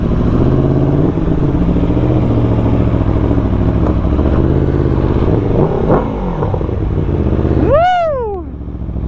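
Aprilia Tuono V4 Factory motorcycle engine running loud and close, with a steady rumbling idle, a brief throttle blip, then a sharp rising rev near the end.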